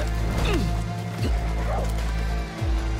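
Dogs bark in Far Cry New Dawn, several sharp woofs and yips over a loud, dense game soundscape with low rumble. Each bark is short and comes at uneven intervals.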